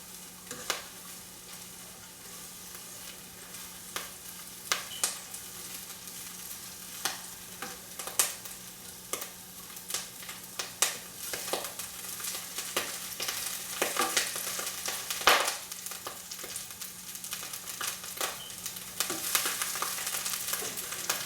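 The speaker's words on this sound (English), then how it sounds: "basically you just want to stir it around" Eel being stirred as it fries in a pan, a low continuous sizzle broken by frequent sharp clicks and scrapes of the utensil, quiet and close, with the activity building slightly toward the end.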